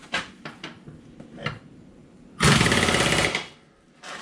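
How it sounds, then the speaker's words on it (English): Short, loud rattling burst of an impact gun snugging the blade bolt on a John Deere 455 mower deck, lasting about a second, preceded by a few faint clicks and clunks and followed by a brief quieter rattle. "a short burst with the impact gun is perfectly fine."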